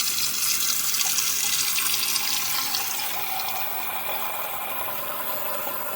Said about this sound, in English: So then we're gonna turn the water on to 5 cups.